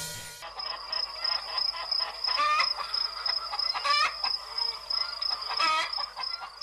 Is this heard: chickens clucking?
yes